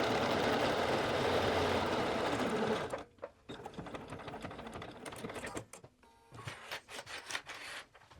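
Sewing machine top stitching a hoodie, running fast and loud at first, then continuing in shorter uneven bursts with brief pauses between them.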